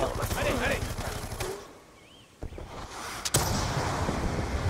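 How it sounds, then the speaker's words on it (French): Machine gun fire rattles in the Black Ops 2 shooter game, a dense, loud burst that drops away briefly before sharp cracks bring the sustained firing back. "Merde, on est contre une mitrailleuse quoi."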